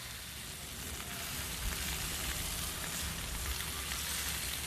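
Wolfgang burger patties sizzle steadily in a pan as their seasoning caramelizes and sears, giving a continuous dense crackle at an even, moderate level with no voices.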